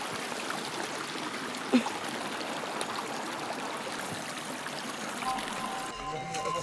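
Steady, soft rushing of a small stream in Zakarpattia, Ukraine, trickling continuously, with a faint click partway through.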